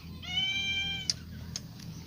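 A cat lets out one drawn-out, high meow close by, followed by a couple of brief faint sounds over a low background rumble.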